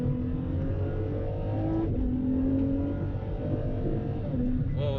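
A 731 HP V12 Ferrari accelerates hard on a mountain road in the UAE, its engine droning loud and steady throughout with rising harmonic tones as it pulls through the gears.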